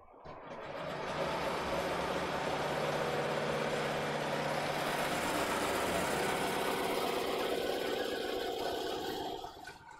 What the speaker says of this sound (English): It's gonna go back in and sew the rest of the design.